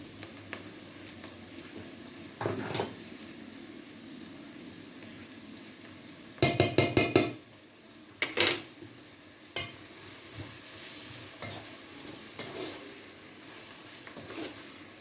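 Chicken liver with harissa fries in a pan, a low sizzle under a few sharp bursts of spoon scraping and stirring, the loudest cluster midway, close and without talk.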